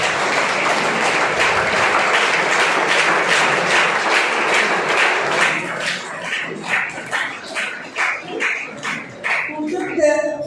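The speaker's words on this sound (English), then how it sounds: "Wide round of applause for Mr. Vivek Gupta, the host of today's event." A conference audience at a Model United Nations event claps for the host: dense, loud applause that thins after about five seconds into scattered, separate claps.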